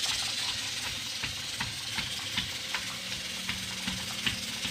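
Spices crackle and sizzle in hot oil for a tadka in a rural Punjab village kitchen, a faint, steady hiss with small pops, no voices.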